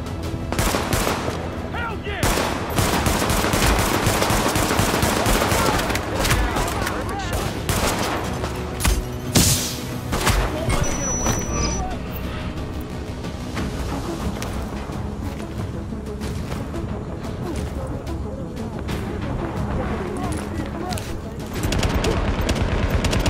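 Gunfire in Tom Clancy's The Division, dense rapid bursts of automatic shots and scattered single cracks nearly continuously over a busy combat backdrop, loud and close, with a voice occasionally talking among the shooting.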